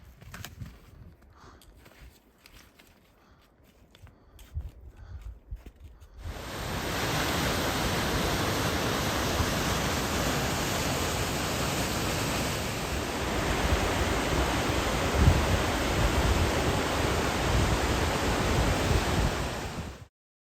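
Rushing creek water in the snowy Sierra Nevada during a heavy-snow year, starting as quieter rustling and then jumping to a loud, steady, close-up broadband roar that fills the rest of the stretch.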